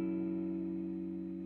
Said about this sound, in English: I'm running a loop out of my Meris LVX. Sounds like this.